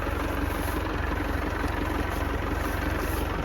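Tractor engine idling out of gear with a clogged sickle bar mower attached, a steady low rumbling drone that holds even and close throughout.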